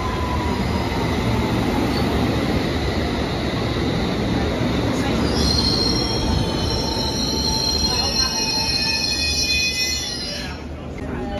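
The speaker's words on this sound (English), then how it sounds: "Here we see our train arriving into Paddington Underground Station." A London Underground train pulling into Paddington station, with loud continuous rumble and high metallic wheel squeal building from the middle, close and enveloping, then easing off near the end.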